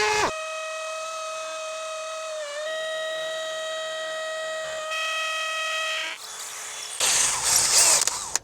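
A power drill fitted with a carbide bit bores into window shutters, giving a loud, steady high-pitched whine that shifts pitch partway through and ends in a harsher, noisier grinding burst at the close.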